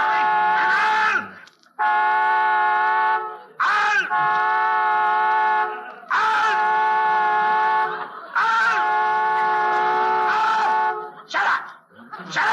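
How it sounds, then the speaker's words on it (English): Car horn honking in repeated long, loud blasts with short gaps between them, sounding close, with brief voices in the pauses. "stop honking that horn"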